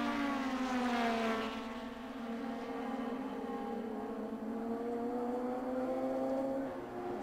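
Race cars in the Fuji Grand Champion Series head into the final corner, a loud continuous engine drone whose pitch slides downward as they pass, with no voices.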